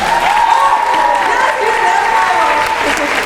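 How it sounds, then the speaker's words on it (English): An audience at a concert hall gives a sustained round of applause, a dense, loud wash of clapping that stays steady from start to finish with faint crowd voices mixed in. "I genuinely like want you guys to give them another round of applause"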